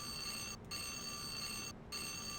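A loud electronic alarm rings continuously in the video game Dark Seed II, breaking off for two brief pauses before resuming its steady shrill tone.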